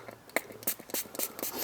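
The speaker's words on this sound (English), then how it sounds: "Nice spray on, get some cleaner" Cleaner is sprayed from a spray bottle onto a black steering wheel during a restoration, in several short, close, hissing bursts separated by small pauses.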